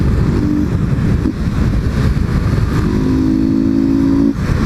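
Honda XRE 190 motorcycle fitted with a BMW 310 exhaust, ridden through neighborhood streets, its engine droning loud and steady with a rising rev near the end, pulling in second gear without the clutch.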